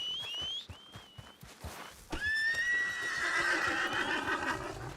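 Several horses whinny loudly in an outdoor Western setting, with long, rising-and-falling neighs and one sustained call, over a steady clip-clop of hooves; no talking.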